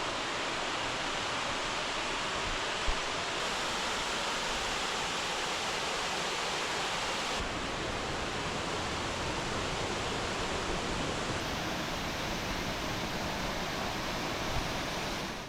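Two waterfalls at the end of a forest walk in the Catlins, New Zealand, pour in a constant, loud broadband roar, a steady rush of falling water with no voices over it.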